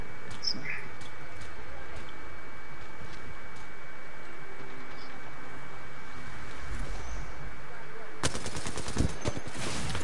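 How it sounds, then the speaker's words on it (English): Gunfire in Apex Legends, rapid bursts of shots mixed with game effects throughout, growing denser and louder toward the end, with a voice speaking over it. "There's two of them shooting at me."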